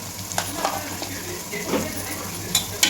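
Food sautés in a pan with turmeric powder, a constant close sizzle with occasional light scrapes and clinks of a spoon against the cookware.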